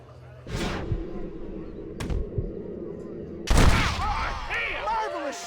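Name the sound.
gunshot in the video game Red Dead Redemption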